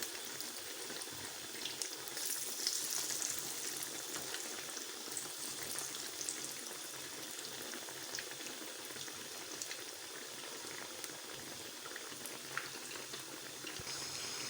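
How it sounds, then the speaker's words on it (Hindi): Bread pakoras fry in hot oil with a continuous soft bubbling sizzle, faint and even, with no talking. "अल्हम्दुलिल्लाह 3 से 4 मिनट हो चुके हैं इनको फ्राई होते हुए।"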